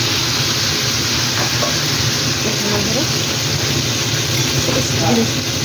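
Water goes into a pan of sizzling vegetables (potato, bitter gourd and similar), and a constant dense hiss and crackle fills the clip at steady loudness, with faint clinks and a voice underneath.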